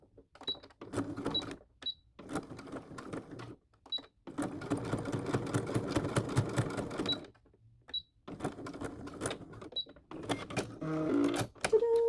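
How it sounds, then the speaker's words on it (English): Sewing machine stitching a ribbon onto a ballet pointe shoe, running in rapid bursts of close mechanical whirring separated by short pauses, with a faint click or two near the end. "Now I'll just be sewing the ribbon part."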